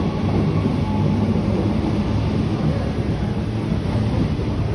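Sydney Trains M-set and A-set electric passenger trains rumble past close by leaving Parramatta Station, a steady loud roar of wheels and motors that holds for several seconds.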